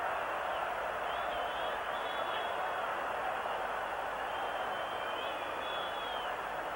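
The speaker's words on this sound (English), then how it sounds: "Crowd are swarming away now." A football stadium crowd at a Brazil v England friendly international in 1984 roars as a broad, steady wash of noise, with faint whistles riding above it throughout.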